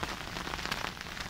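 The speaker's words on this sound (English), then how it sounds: "now I have to get this tarp lowered, so I have to get out in the rain." Steady rain patters on a camping tarp in the desert beside a dam or lake in South Africa, a dense, even drumming of drops that continues without a break and without any voices.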